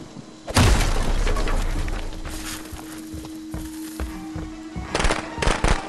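Firecrackers go off in Friday the 13th: The Game, a sudden loud burst followed by crackling, fizzing and a trailing tone, with a cluster of sharp pops near the end.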